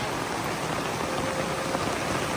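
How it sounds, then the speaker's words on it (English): Heavy tropical rain pours down steadily on a jungle farm in Leyte, Philippines, in a dense, continuous hiss with no pauses, close and enveloping, with no voices. "it's a tropical downpour"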